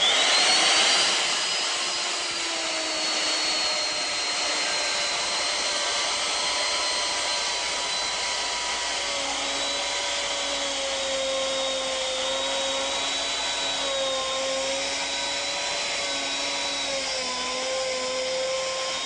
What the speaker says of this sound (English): I've got this router set for the precise depth of this cut